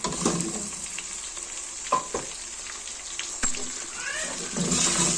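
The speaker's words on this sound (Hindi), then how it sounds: "इसे भूनेंगे अभी थोड़ी देर अच्छे तरीके से" Chicken pulao with tomatoes fries in a pan, giving a steady, close sizzle with a few sharp stirring scrapes and clinks throughout.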